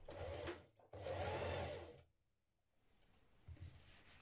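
A sewing machine stitches a seam on a ruffle dress in two close, loud runs, the first short and the second longer, before cutting off into quiet room tone with a faint thump near the end.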